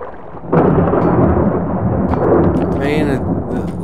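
A thunderstorm in the survival video game Subsistence rumbles loudly and continuously, with a heavy thunder roll swelling in and rain hissing throughout, while someone talks quietly underneath.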